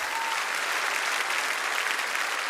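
A concert audience applauds steadily, a dense even wash of clapping from many hands that holds at full strength without a break.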